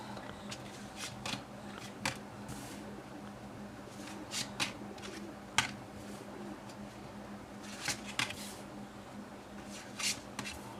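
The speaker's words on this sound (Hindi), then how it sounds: "पहले मैं आपके लिए कार्ड्स निकाल लूँ" Tarot cards being drawn and shuffled, a soft papery rustle with brief snaps and flicks recurring every second or so, close and quiet, with no voice.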